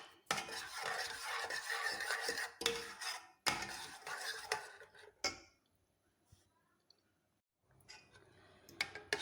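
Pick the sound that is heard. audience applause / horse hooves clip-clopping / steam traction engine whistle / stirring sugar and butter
stirring sugar and butter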